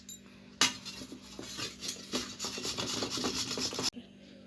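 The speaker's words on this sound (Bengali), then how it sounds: "লাউটাকে আমি ঘষে নিয়েছি" A peeled bottle gourd is rubbed over a metal grater in a home kitchen, producing a continuous close scraping rasp with quick repeated strokes for about three seconds between quiet pauses.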